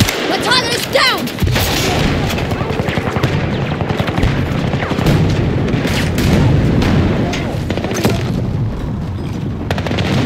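Battlefield 2042 firefight with a grenade blast amid heavy gunfire, a loud boom early on followed by sustained rapid machine-gun bursts and rumbling explosions, dense and close throughout.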